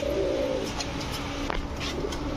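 Pigeons coo softly in a low repeated call, nearby and fairly faint, over a steady background hum with a few brief higher bird sounds.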